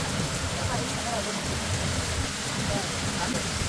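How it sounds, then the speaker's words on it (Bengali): Steady, fairly faint rain falls on a hill road flanked by mountains on Penang Hill, Malaysia, as an even wash of hiss with no distinct drops or voices. "দুই পাশে এমন পাহাড়, মাঝখানে রাস্তা, তার উপরে এত সুন্দর বৃষ্টি"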